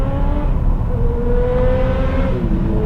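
A 2021 Cadillac XT6 SUV with a non-turbo engine accelerates, its engine note rising smoothly through the revs as it shifts, loud and close from inside the cabin, with no talk.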